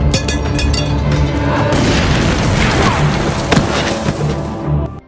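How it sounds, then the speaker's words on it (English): A loud, booming explosion rumbles and crackles continuously, with splintering debris and crashing layered through the blast for several seconds. "The sound of the explosion was heard by Elsa"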